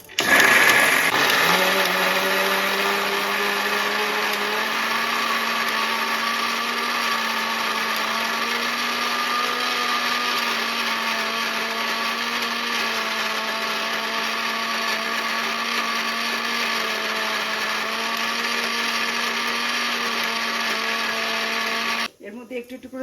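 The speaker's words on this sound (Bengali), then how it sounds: "এর মধ্যে একটু একটু করে জল দিয়ে আমি মেশিনে এটা পেস্ট করে নিলাম।" A mixer grinder whirs loud and steady as it purees pointed gourd with water into a paste, running continuously at high speed before cutting off near the end.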